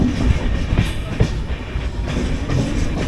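The 12303 Poorva Express train via Patna at a station, a steady rumbling roar with rhythmic clickety-clack of wheels over rail joints, loud and near, with no talk.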